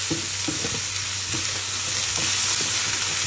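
Carrot strips sizzle steadily in a frying pan on an electric stove, a continuous hiss with faint clinks of stirring and no talking.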